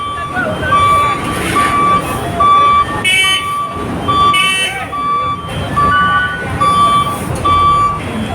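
Large trucks sound repeated, evenly spaced reversing beeps over a busy roadside rumble of engines and traffic, with voices talking underneath.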